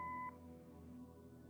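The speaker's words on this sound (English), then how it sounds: "Leave a message after the beep." Answering machine beep in the detective game Kathy Rain: a single loud steady electronic tone lasting about a third of a second, then a quiet low room hum.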